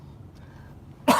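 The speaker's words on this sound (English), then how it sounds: "I'm gonna cough." After a second of near silence, a single short, sharp cough bursts out close by at the very end.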